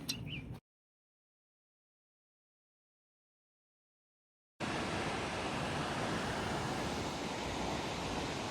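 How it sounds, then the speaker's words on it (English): A waterfall at an Arkansas park rushes in a steady, broad hiss that starts abruptly after a short silence and continues evenly, close and loud, with no voices. "this is the main show right here, this waterfall"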